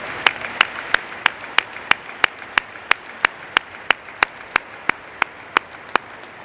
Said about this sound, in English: Please join me in a round of applause to thank our faculty and staff of the University of Northern Iowa.